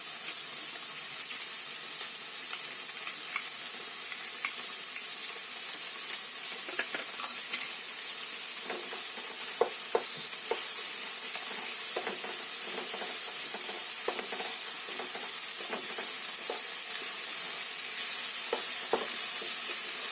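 Ginger-garlic paste frying in hot oil with cabbage, a steady hiss of sizzling throughout, broken from midway by intermittent scraping and clinking as a spoon stirs the pan.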